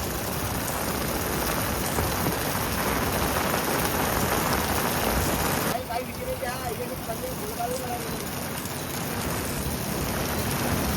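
Heavy rain pours steadily over village farmland, a dense continuous hiss throughout, with a voice speaking faintly beneath it in the latter half.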